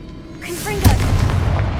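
A Confringo spell explosion in Hogwarts Legacy, set in a bone-lined archway: a whooshing build-up breaks into a single loud boom that leaves a rumbling tail, with a voice briefly audible before it.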